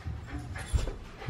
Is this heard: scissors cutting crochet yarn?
no